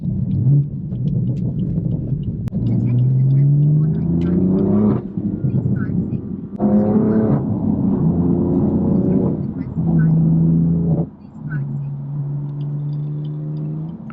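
A lowered BMW M4 F82 drives with its engine droning loudly up through the gears, the pitch rising and falling through several shifts as someone talks over the steady cabin rumble.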